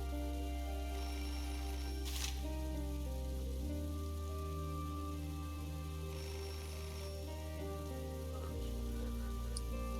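A telephone rings in the Beholder video game over a steady rain-like hiss and a low droning musical background.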